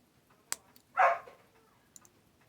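A dog barks once, a single short bark at mid-distance, with a few faint clicks and taps around it in an otherwise quiet indoor room.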